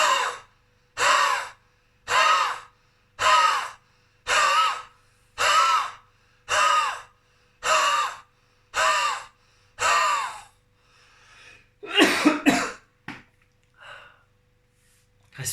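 Rapid bellows-style breathing driven through the throat, about ten forceful, evenly spaced breath bursts close to the mic, then a few quicker, ragged breaths.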